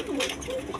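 Colored golla Giribaz pigeons give soft, brief coos close by, murmuring under someone talking over them for under a second.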